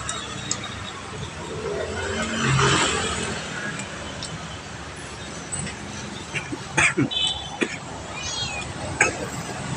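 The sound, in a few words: cat meowing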